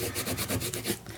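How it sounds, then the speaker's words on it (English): Brown paper bag surface of an ephemera holder being burnished by hand, a steady dry rubbing that scrapes back and forth in quick repeated strokes, close and alone. "Burnish, burnish, burnish."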